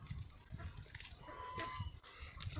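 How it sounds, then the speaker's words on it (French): Newly hatched chicks in a poultry-rearing setup give soft, high peeps, scattered and close but faint, over a low muffled background. "Voilà tous les poussins."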